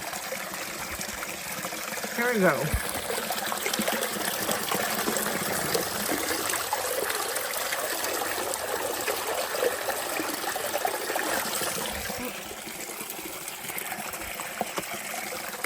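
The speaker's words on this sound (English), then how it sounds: "That water flow was awesome." Water from a trail spring on the Appalachian Trail gushes and splashes steadily nearby for the whole stretch. A voice briefly speaks over the continuous flow.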